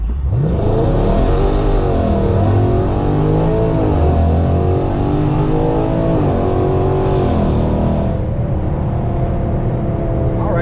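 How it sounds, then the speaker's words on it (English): A cammed 5.7 V8 car launching hard from a standstill, engine roaring loud and near as it climbs through the revs with shifts, then easing off near the end. "let's do a 0 to 60"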